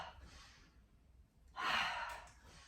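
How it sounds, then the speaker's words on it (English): Breathing during a yoga strengthening flow: a soft, airy inhale, a quiet pause, then a louder, fuller exhale, close to the microphone with no talking. "Breathing in and out."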